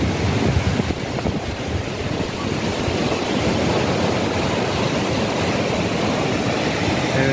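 Red Sea surf rolls along the Jeddah seashore in a steady, loud wash of breaking waves, with gusty wind buffeting the microphone throughout and no talk.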